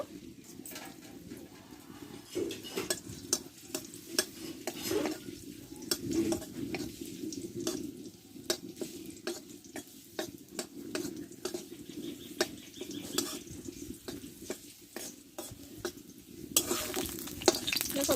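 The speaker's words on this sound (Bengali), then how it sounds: "দেখো এখানে অল্প কয়েকটা কিশমিশ আমি ভেজে নিব" Raisins fry in a little white oil in a wok, a soft continuous sizzle with sharp scraping and clinking stirring strokes scattered throughout, moderately quiet and with no talking.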